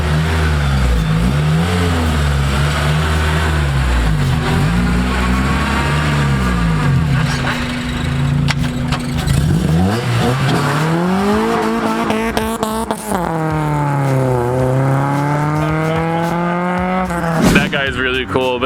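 A car engine revs hard and accelerates, loud and close, its pitch sweeping up and down through repeated throttle blips before climbing in long, rising pulls, with a final sharp burst at the end.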